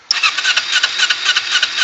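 A 2008 Kawasaki Ninja 250R engine cranks and tries to start, a loud, rapid rhythmic churning of the starter that runs steadily without catching, close up and alone.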